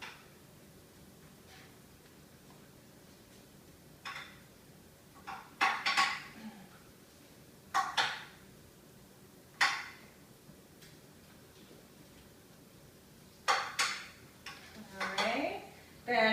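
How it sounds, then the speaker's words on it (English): A spoon scraping and clinking against a dish while hash browns are mixed, sharp intermittent knocks and stirring scrapes separated by pauses, close and fairly quiet, with someone talking at times. "you're just going to mix it and make sure that all the hash browns are covered"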